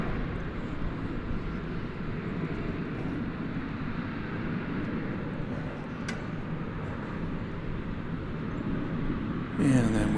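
American Airlines flight 1744 bound for Phoenix taking off from runway 18 left at DFW, a steady broad jet roar holding level throughout at moderate distance, with a brief rise in the final moments.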